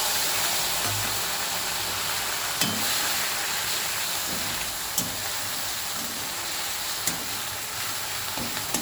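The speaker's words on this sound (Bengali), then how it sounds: "এই মশলাটা এবার দিয়ে দিচ্ছি।" A paste of black cumin, cumin, garlic and green chili goes into hot oil in a pan and sizzles steadily and loudly, with a few sharp stirring clinks breaking through the close, constant frying hiss.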